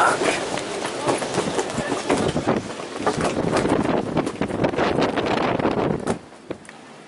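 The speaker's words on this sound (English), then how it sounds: "you can hear the gusts go through all the other boats, like you can hear it whistle through all the other masts" Squally Caribbean wind gusts sweep through the rigging of sailboats moored nearby, a loud, close, blustery rush that surges and swells for several seconds before easing off suddenly near the end.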